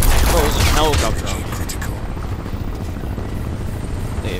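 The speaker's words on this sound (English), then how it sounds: "Bro, it was a helicopter." A helicopter in the video game Crysis roars loudly and close with a steady rotor thrum, and a voice talks over its first moments.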